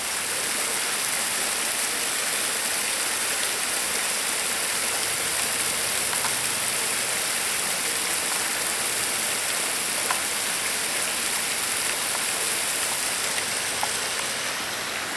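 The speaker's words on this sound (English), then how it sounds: "And here is the waterfall." The waterfall at Bull Creek gives a loud, steady rushing roar of falling water, broad and unbroken for the whole stretch, heard close with no voices.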